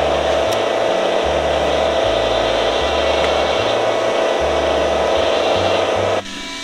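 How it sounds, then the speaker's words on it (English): A drill bores a hole through a metal auger bit during a welding and machining rebuild, giving a steady, continuous grinding whir with a rough rasping edge that cuts off abruptly near the end. "we got the hole drilled as close to the corner as possible"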